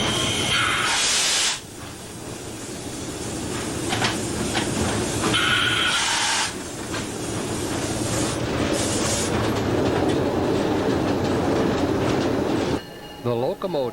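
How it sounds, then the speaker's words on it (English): Adirondack Railroad locomotive pushing passenger coaches on the line near Minnehaha, heard as a steady loud rumble of rolling cars with hissing bursts and faint clatter, briefly easing twice, before talk comes in at the end. "The locomotive stops near Minnehaha, reverses direction, and pushes the passenger coaches back to Thendara for the return leg of the rail ride."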